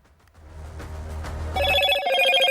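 A Motorola smartphone ringtone in an advert: a bright electronic tune of repeating tones that comes in loud and close after a low rumbling start and carries on steadily to the end.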